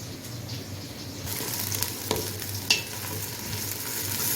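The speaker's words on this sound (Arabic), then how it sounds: "حطينا شويه زيت حلوين كده ومعلقتين سمنه. البصله اتشوحت شويه" Onion sizzles steadily in hot oil and ghee in a pan, with a constant crackling hiss, a few light stirring knocks and one sharp clink near the end, and no voices.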